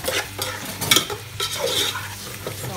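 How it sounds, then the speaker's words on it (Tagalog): Pork cubes sautéing in a pan for adobo, steady sizzling and frying with a spoon or spatula scraping and stirring against the pan, close and continuous. "Gisa muna natin sa maigi."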